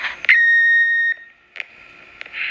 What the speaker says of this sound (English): Please wait for the beep and then commence your message.